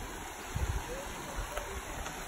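A small, muddy creek flows in a national park setting, a faint, steady wash of moving water with a few soft low bumps nearby.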